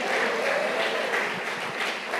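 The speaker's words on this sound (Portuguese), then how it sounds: "Pode aplaudir bem forte" A church congregation applauds strongly, a loud, dense and sustained clatter of many hands that fills the room and eases slightly toward the end.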